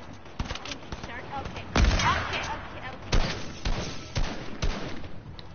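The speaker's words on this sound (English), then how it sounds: "Oh, I'm getting shot at. I'm getting shot." Gunfire from the Fortnite battle royale game, Chapter 2 Season 3: a scattered series of sharp shots, with one heavy close blast and several lighter cracks spaced irregularly, over a low game background and some talk.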